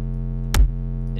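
A sustained deep sub-bass tone, distorted by a clipper, gritty and clipped, with a brief thump and burst of noise in the middle; no voices.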